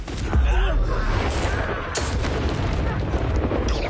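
The Confringo explosion spell goes off during combat in the video game Hogwarts Legacy: heavy booms land in quick succession with sharp cracks among them, amid ongoing battle noise.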